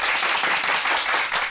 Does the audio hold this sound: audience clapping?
yes